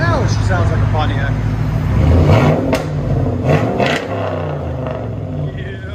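A 1998 Pontiac Firebird's 5.7-liter LS1 V8 with dual straight-pipe exhaust revs loudly up close, a deep rumbling bark rising and falling with throttle blips, with people talking over it.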